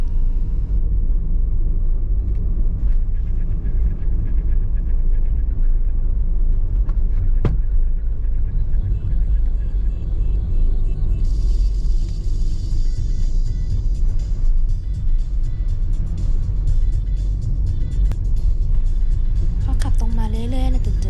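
A car driving along a road toward a campsite at a reservoir in Ubon Ratchathani, Thailand, heard from inside as a constant low engine and road rumble with a brief sharp click and some brighter noise near the end.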